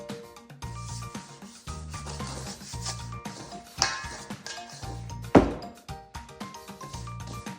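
Sourdough dough is stretched and folded by hand in soft, intermittent rubbing and squishing bursts close by, with tonal background music running underneath.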